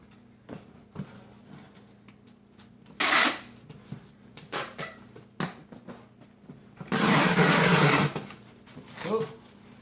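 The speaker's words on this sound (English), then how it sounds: "tape this guy up" Packing tape is pulled off the roll and pressed onto a cardboard box being sealed for a Luxman LX104 amplifier, with loud ripping screeches in two long bursts and shorter strips between, plus some rustling and handling close up.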